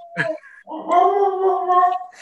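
Dogs at a home give a short sharp yip followed by a long, wavering, tonal howl that rises and holds, loud and close in an otherwise quiet setting.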